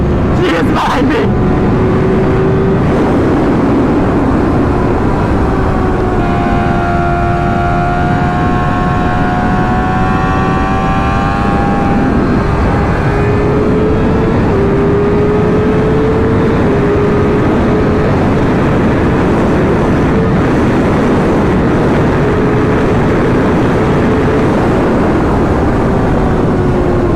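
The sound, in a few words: Chrysler car engine accelerating while fleeing a police bike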